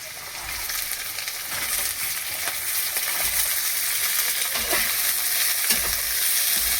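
Potatoes, carrots, peas and beans fry in a pan with onions for fried rice, giving a steady, loud broadband sizzle with occasional stirring scrapes and clicks throughout, no voices.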